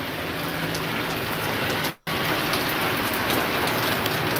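Rain falls in a steady, dense hiss that stays loud throughout, broken by one short cut near the middle.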